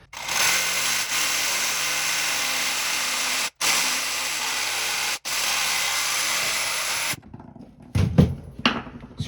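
A power tool cuts half an inch off the hub of a toilet flange with a loud, steady, close whine that briefly stops twice, then cuts out, leaving a few clatters and knocks.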